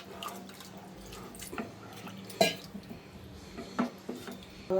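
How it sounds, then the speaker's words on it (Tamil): Water runs and splashes into a metal pot at close range while cooking onion kosumalli, with a few light clinks of cookware and no speech. "அதனால் நம்ம தண்ணி ஊற்றிக்கணும் தண்ணி ஊற்றி உப்பு போடலாம்"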